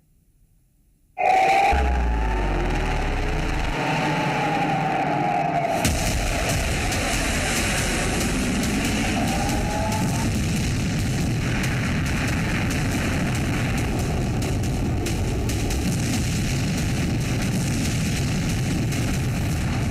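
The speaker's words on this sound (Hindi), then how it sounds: "ईरान पर इजराइल ने 50 फाइटर जेट से एयर स्ट्राइक की है।" Fighter jets roaring in an Israeli air strike on Iran, a sudden loud blast giving way to a sustained heavy rumbling jet drone with low booming impacts, continuous and close.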